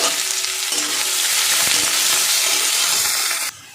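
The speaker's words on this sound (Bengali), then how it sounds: "পেঁয়াজটা একটু লাল লাল করে ভাজা করে নেব।" Chopped onion fries in hot oil in a pan, a loud continuous sizzle with occasional stirring scrapes, cutting off abruptly near the end.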